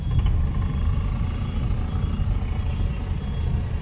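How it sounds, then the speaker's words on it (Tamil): Steady road traffic with cars rolling past on a busy street, a continuous loud low rumble of engines and tyres with no pauses and no talk. "இவ்வளோ டிராஃபிக்காக இருக்கு."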